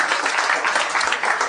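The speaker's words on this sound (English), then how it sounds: "how many people by applause have seen that Woody Allen documentary?" An audience applauding, a dense steady patter of many hands clapping at close range throughout.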